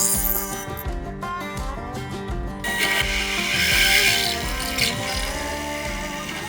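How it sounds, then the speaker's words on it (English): A drill press turning at its lowest speed deburrs freshly drilled holes in steel parts for a homemade tire bead breaker, giving a steady close grinding and scraping rasp over a constant motor hum, with no talking. "I'm just deburring these holes a little bit."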